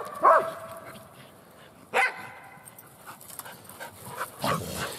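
A corgi gives a few sharp, separate barks outdoors during a morel mushroom hunt, with panting and rustling between them, at moderate loudness and fairly close.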